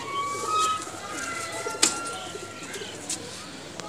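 A cross-bred high-flyer pigeon coos softly nearby in a short, low call, with faint chirps and thin background tones around it.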